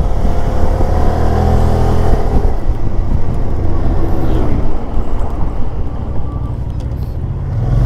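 A Kymco AK 550 Premium 2023 maxi-scooter accelerates on the road, its engine a loud, steady drone mixed with wind rush at the microphone throughout.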